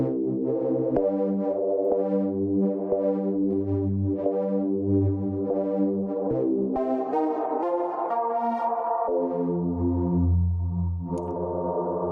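A sustained Tone2 Nemesis 3 software synthesizer plays slow chords through chorus and reverb effects, swelling and shimmering with a wide chorused sound and a long reverb tail, steady and unaccompanied.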